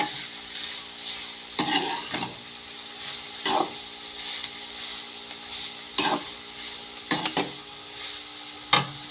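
Carrot stir-fry with onion, green chili and curry leaves being stirred in a pan, a quiet continuous sizzle broken by about six separate scraping spatula strokes spaced a second or two apart, with no talk.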